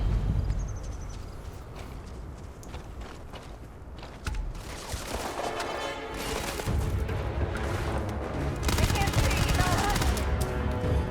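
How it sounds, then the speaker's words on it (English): Gunfire from the space video game Starfield comes in bursts and rapid volleys, with sharp repeated shots that grow denser and louder toward the end over a busy game mix of effects. "See, already I noticed the shooting is a lot tighter than what it was last year."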